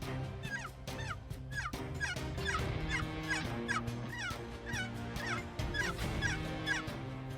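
Wild turkeys gobble repeatedly outdoors in rapid bursts, heard from a moderate distance over a low background hum.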